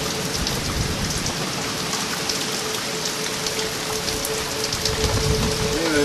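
Rain falls continuously in a Tulsa County thunderstorm, a close, even hiss of drops hitting surfaces that holds steady throughout with no voices.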